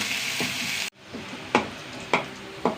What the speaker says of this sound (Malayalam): ഇത് മാത്രം ഉള്ളി നന്നായി മൂക്കട്ടെ